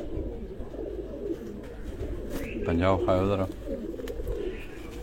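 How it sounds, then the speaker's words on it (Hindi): Rare fancy pigeons coo in a low, throaty burst near the middle, close and moderately loud, while people talk throughout. "ये बड़े नायाब कबूतर जो हैं ये आपको दिखाए जा रहे हैं।"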